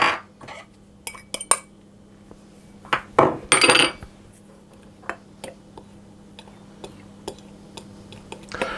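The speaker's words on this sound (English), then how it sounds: "I'm going to just stir those around to get them combined" A spoon or whisk stirs flour and salt into cocoa powder in a bowl, producing scattered light clinks and taps against the bowl. A few louder scraping bursts stand out over a quiet background.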